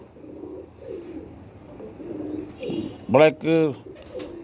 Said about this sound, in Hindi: अच्छी हड्डी की कबूतरी है ये